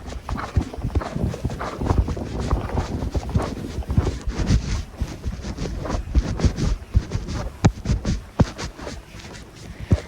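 Horse hooves clip-clopping across a field while trotting and then galloping, a steady outdoor rhythm of irregular thuds and scuffs, moderately close, with no speech.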